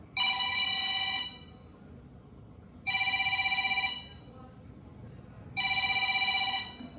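Three bursts of an electronic phone ringtone, each about a second long and spaced a couple of seconds apart, loud and close over a low background hum.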